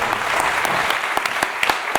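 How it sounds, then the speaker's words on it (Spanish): Crowd of listeners clapping together in a sustained round of applause, fairly loud and close, with a few sharp individual claps standing out near the end. "vamos a darle un fuerte aplauso"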